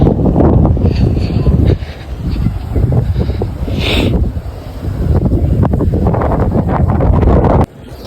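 Steady wind buffeting the microphone, a loud rushing roar with gusty low rumble throughout, easing briefly near the middle and dropping at the very end.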